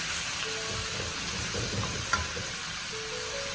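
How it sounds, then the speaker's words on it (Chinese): Small mushrooms stir-fried in a wok over high heat, a steady close hiss of frying with soft scraping and stirring throughout and one sharp clink of the spatula partway through, no talking. "开大火翻炒均匀，把蘑菇表面的水分炒干，炒出香味"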